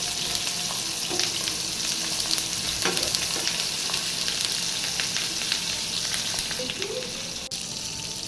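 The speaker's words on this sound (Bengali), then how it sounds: "একটা চামচ নিয়ে মাছের ওপরে আমি একটু একটু করে তেল ছড়িয়ে দিচ্ছি" Fish frying in oil in a pan, a steady close sizzle running throughout, with occasional clinks and scrapes of a spatula or spoon as oil is spooned over the fish.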